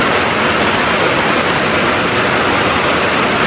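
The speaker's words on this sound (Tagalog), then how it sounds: "Tapos malakas pala ulan dito sa taas." Dense, steady roar of heavy rain pouring down, loud and unbroken throughout with no voices.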